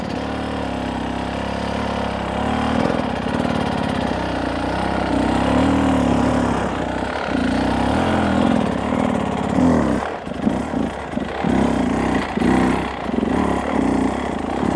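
An enduro motorcycle engine runs steadily nearby during clutch control practice, holding a low throttle with gentle rises and dips in revs, then turning choppier and stuttering toward the end as the clutch is played.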